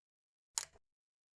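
A single quick snip of scissors cutting yellow yarn on a crochet patch, one short crisp sound in otherwise near silence.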